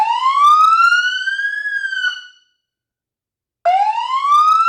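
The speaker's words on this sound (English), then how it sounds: "We have several different siren tones in there: wail, yelp, high, low, and a horn." Police siren wailing with a low frequency driver on an upfitted emergency vehicle, a loud, close tone sweeping upward, cutting out briefly and then starting again, with no talking over it.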